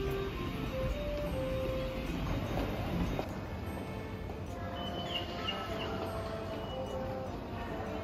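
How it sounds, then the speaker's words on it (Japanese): Underground subway train ride in Japan, a steady loud rumble of the moving carriage fills the whole stretch, with faint brief chirps and squeals on top and some voices mixed in. "今から地下鉄に乗ります"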